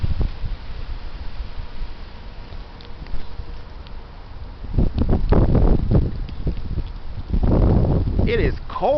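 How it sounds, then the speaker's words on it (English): Heavy, cold wind buffeting outdoors, a continuous low roar with gusts that swell loudly partway through, close microphone rumble, and occasional voices faintly present. "Here it comes. The heavy wind."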